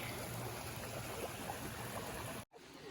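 A forest stream flows past wild mushrooms, giving a steady rushing gurgle of water that runs unbroken, cuts out abruptly for an instant, then resumes more quietly.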